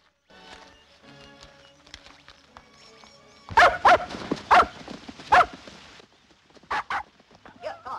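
A dog barks several loud, sharp times in a drama film scene, a close burst of about four barks followed by two more after a short pause, over a quiet background.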